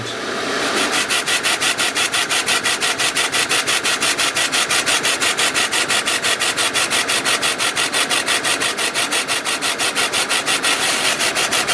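A 20-watt laser engraver working on MDF at speed 1000 gives a rapid, even pulsing buzz with regular ticks. It runs steadily for about eleven seconds, close and loud, with no talk.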